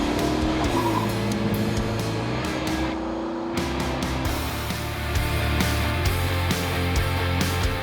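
Holden VN Commodore Calais 5-litre, a 30-year-old Australian car, driven with a steady engine drone throughout, loud and close, with rising and falling engine tones and occasional tyre noise.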